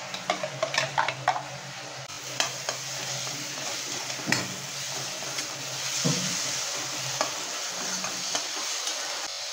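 Chopped onions sizzling and frying to a light golden brown in a pan, with steady crackling and intermittent scraping stirs up close, no voices.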